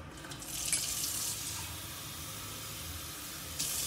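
Water pours steadily into a container to mix a natural protein shake, a continuous soft hissing splash at close range with a short burst at the end and no talking.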